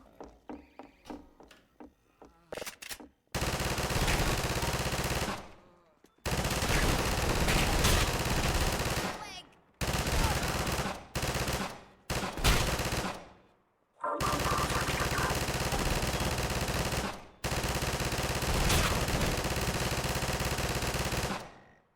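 Machine gun fire from the video game Entropy Zero comes in several long, loud, sustained bursts separated by brief pauses, after a few sharp single shots at the start.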